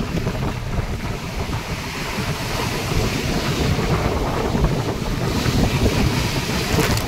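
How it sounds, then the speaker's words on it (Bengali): Strong wind roars over the rough, churning Bay of Bengal during Cyclone Remal, a loud buffeting rush with surf surging underneath, continuous and close with no speech. "প্রচুর পরিমাণে বাতাস বইছে, কিন্তু ঠান্ডা পড়ছে না"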